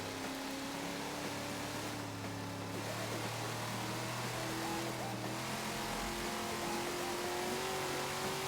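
In Forza Horizon 3, a car engine revs up in a smooth rising whine as it gathers speed through a neon-lit city at night, sustained and prominent, with no speech.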